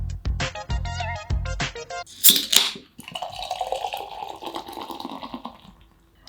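Beer, a passion fruit sour, is poured into a glass: a few sharp clinks and taps come first, then a steady foaming pour that fizzes and gurgles for several seconds before trailing off.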